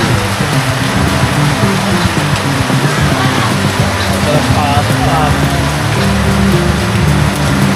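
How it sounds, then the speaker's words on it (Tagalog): Dense, loud patter of heavy rain drumming on a surface, continuous throughout, with a few muffled voices underneath. "Malakas ng ulan."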